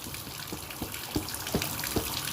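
Water sprays and splashes steadily at moderate volume, rinsing a K&N air filter, with a few brief louder bursts as the stream hits the filter.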